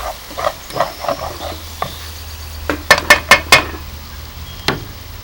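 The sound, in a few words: stirring Massaman curry spices sizzling in pan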